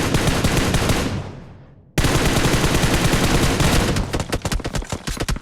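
Rapid automatic gunfire from an M416 rifle in the mobile battle royale game PUBG Mobile on the Erangel map: a loud, dense burst that drops out briefly, resumes as sustained fire, then breaks into separate sharp shots.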